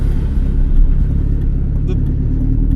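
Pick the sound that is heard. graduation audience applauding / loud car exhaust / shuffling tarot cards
loud car exhaust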